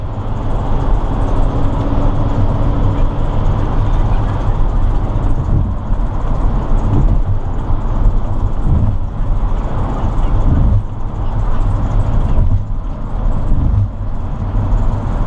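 A 2011 Sprinter 144 high-roof van drives on a road, giving a steady, loud interior rumble of engine and tyre noise with a few bumps and shifts along the way.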